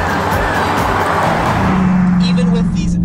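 A Dodge Challenger Hellcat on 305-width rear tires roars loudly up close while spinning its rear wheels, with a rising engine note and tire noise under a voice.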